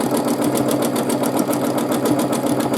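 A sewing machine stitches steadily during free motion quilting of an all-over swirl pattern, its fast needle rhythm running continuously and close up with an even motor hum throughout.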